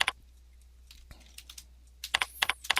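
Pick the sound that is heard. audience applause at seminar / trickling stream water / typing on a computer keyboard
typing on a computer keyboard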